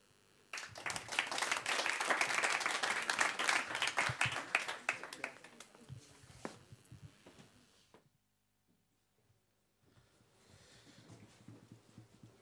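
Audience applause at a writers' literary event, a dense burst of clapping from a crowd that swells quickly, holds for several seconds, then thins out and stops before quiet talk resumes.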